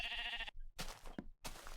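A sheep in Minecraft gives short bleats, two or three quick close cries separated by brief silences.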